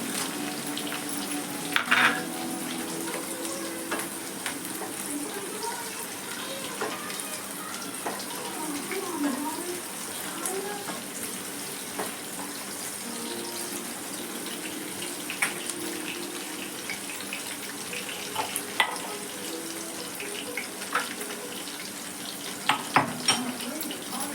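Whole spices frying in hot oil for an Agri-style mutton dish, a steady close sizzle with occasional stirring clinks.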